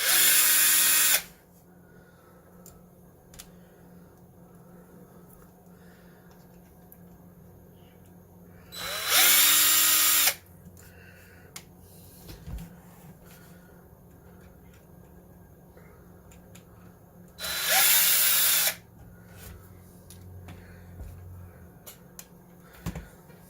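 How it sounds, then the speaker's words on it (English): A power drill removing screws from an Axial SMT10 Grave Digger RC truck whirs in three separate bursts of a second or two each, with quiet pauses and small clicks and clatter between them. "I'm just going to go ahead and use my drill for that."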